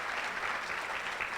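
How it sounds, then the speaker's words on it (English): An audience at a live panel event broadcast on radio bursts into a short, dense round of clapping, steady and moderately distant, with no voices over it. "Applaud our radio audience, if you would, for me for a moment"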